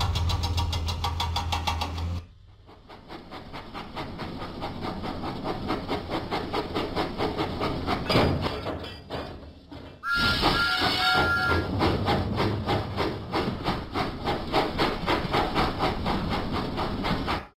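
Thomas the Tank Engine sets off in a video game: bursts of steam hiss and rhythmic chuffing build up, a brief steam whistle sounds midway, then loud puffing resumes, with no voices.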